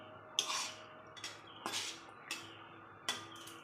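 Mustard rui fish curry being stirred in a pan over a low flame, heard as several sharp, close metallic scrapes and clinks of a utensil against the pan with quiet gaps between them.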